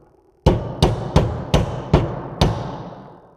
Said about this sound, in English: I'm angling in with the hammer.